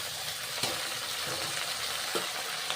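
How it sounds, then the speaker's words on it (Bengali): Moringa drumstick stalks frying in hot oil with fried onions and black cumin, a steady close sizzle with a few soft stirring knocks, heard alone without talk. "সজনে ডাঁটাগুলো ভেজে নিচ্ছি।"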